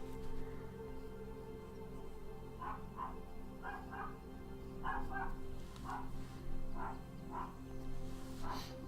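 Several dogs barking at a distance, short paired yips and bow-wows repeating irregularly over a low steady background hum, faint and without talk.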